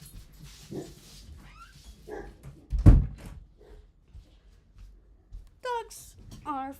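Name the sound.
dogs barking at mailman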